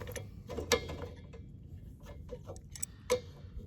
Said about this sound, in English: You just need a couple wrenches and this hose will come right out.